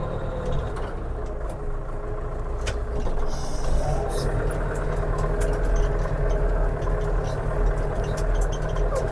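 A Scout 404 tractor works a snowy sandy garden in winter with a Unia 2/30 plough, its engine running loud and steady nearby, with a few clanks as the plough is raised.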